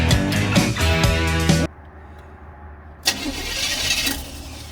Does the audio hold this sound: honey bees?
no